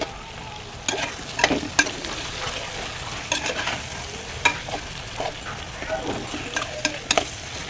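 Boiled, cut taro pieces frying in a pan, with a steady sizzle broken by repeated scraping stirs and clinks of a spoon against the pan, close and fairly loud.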